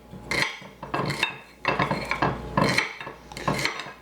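Knife chopping vegetables on a cutting board during pasta salad prep: a close series of short, crisp knocks and scraping strokes in uneven bursts, with no voices.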